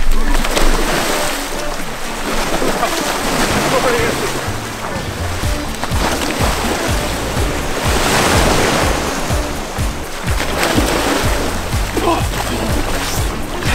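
Ocean surf breaks on a beach in loud, surging washes with rough wind buffeting the microphone, the waves swelling and receding over several seconds.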